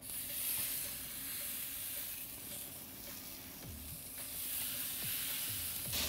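Pork steaks on hot grill grates give off a soft, steady sizzle and hiss, faint and continuous, with a few small pops and scrapes. No voices.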